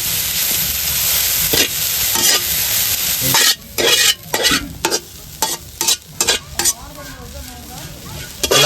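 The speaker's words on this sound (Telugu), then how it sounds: "ఈ రొయ్యి పొట్టు వేపుకునేటప్పుడు నూనె అయితే అసలు అవసరం లేదు నార్మల్గా కడాయిలో వేసుకొని వేపేసుకోవచ్చు" Shrimp shells dry-roasting in a kadai without oil, a loud close crackling rustle broken by repeated bursts of scraping and stirring against the pan.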